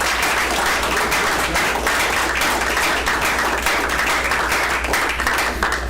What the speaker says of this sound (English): So a round of applause for both of them.